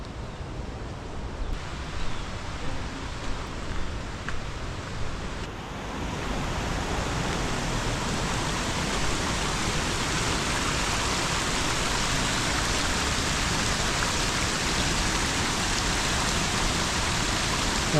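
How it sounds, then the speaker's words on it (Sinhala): A waterfall in Sri Lanka roars nearby as a steady, dense rush of falling water, softer at first and then rising to a loud, unbroken wash that fills the rest of the clip with no talking. "දියැල්ල සද්දේ තව ටික ටික වැඩි වෙනවා."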